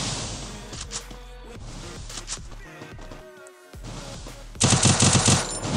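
Gunfire in a shooting video game: scattered shots and clatter, then a loud, sustained automatic burst near the end, with some faint in-game sounds underneath.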